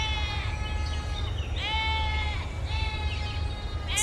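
Sheep bleating in a flock, several wavering, nasal bleats in a row, fairly close, over a low steady rumble of background noise.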